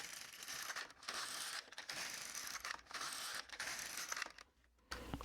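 A knitting machine carriage slides across a row while knitting a puff stitch in dental floss: loud, close mechanical rasping and ratcheting that runs in long passes broken by short pauses.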